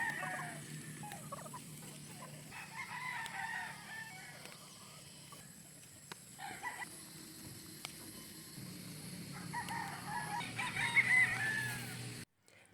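Chickens and a rooster at a gamecock farm at dusk, with a rooster crowing in a couple of clear, drawn-out calls amid steady background clucking and farmyard noise.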